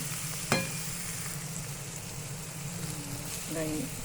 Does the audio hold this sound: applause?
no